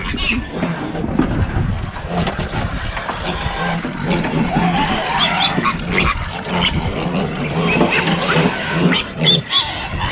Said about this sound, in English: we're just here at the pig pens and they are hungry, aren't they? Yeah. They're very noisy.